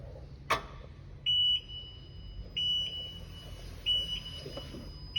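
Motion alarm on an SJ16E electric scissor lift sounds in three evenly spaced pairs of high, steady beeps over a very quiet machine hum, with a sharp click near the start; no talking.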